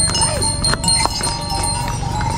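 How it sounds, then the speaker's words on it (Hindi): Horses wearing bells plod along the mountain pilgrimage trail to Kedarnath, with steady jingling bells and clip-clopping hooves close by amid a busy outdoor crowd and faint voices. "यहाँ पे इंसान से ज़्यादा तो घोड़े परेशान करते हैं।"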